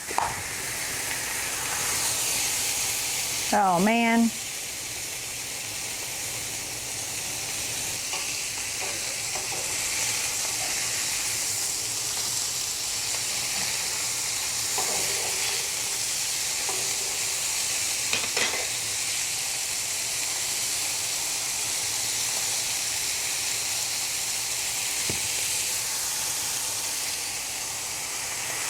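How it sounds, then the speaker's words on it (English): Cheeseburger-stuffed hot dogs hiss and sizzle under a press on a hot cooking surface, a steady, close frying crackle that runs throughout, with a brief spoken exclamation and a few clinks early on. "Do you hear that sizzle?"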